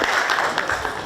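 An audience at a youth sports school event applauds steadily, a dense wash of many hands clapping at once, loud and continuous throughout.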